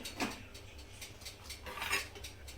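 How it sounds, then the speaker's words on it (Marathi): A metal kadhai is set onto a gas stove in a home kitchen, making a couple of faint clanks and scrapes of metal close by. "कढई ठेवायची आहे"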